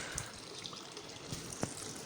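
Water pours steadily from a water source as containers are filled, a close, continuous rushing with one brief clunk near the end.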